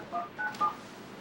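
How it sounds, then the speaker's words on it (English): A telephone keypad sends three short touch-tone beeps in quick succession, each a crisp dual tone at moderate volume, with no voices. "let's go make that phone call that Jeffrey has for us"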